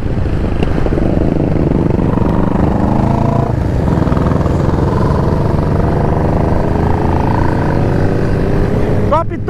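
A Honda CG 150 motorcycle fitted with a Hornet engine rides along a highway, its engine and wind roar loud and unbroken throughout, with a voice talking over it.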